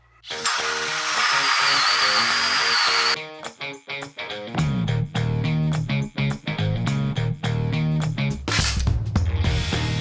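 A 1.5 inch hole saw on a drill bores into wood with a high, continuous whine for about three seconds, followed by a stretch of rhythmic, music-like pulses.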